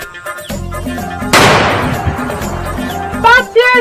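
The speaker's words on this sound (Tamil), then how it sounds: "பாத்தியாடி எப்படி வெடிச்சோம் பாத்தியாடி?" A Diwali firecracker goes off with one sharp, loud crack, its broad burst decaying over a couple of seconds, with someone speaking before it and voices returning right after.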